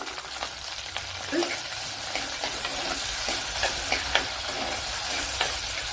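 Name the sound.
garlic, green chili and ginger frying in pan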